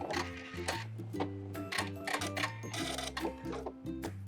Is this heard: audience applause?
no